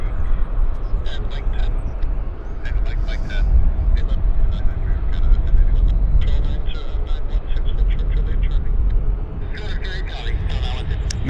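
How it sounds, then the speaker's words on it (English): A continuous low rumble of an American Airlines jet taxiing onto the active runway at Vancouver Airport, with a person talking nearly throughout and occasional crow caws in the background. "American Airlines now turning on to the active"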